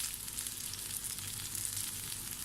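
Creamy beef kebab frying in a pan over a low flame, a steady close sizzle with a fine crackle, continuous and unbroken with no talk.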